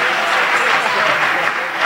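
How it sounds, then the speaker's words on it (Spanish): A church congregation bursts into steady, loud applause at an evening evangelistic service, the clapping filling the room without a break. "denle un aplauso al Señor Jesucristo en esta noche"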